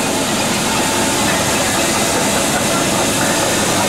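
A steam roller engine at the Great Dorset Steam Fair makes a loud, steady, broadband hiss and rumble that stays constant throughout, with no distinct beats.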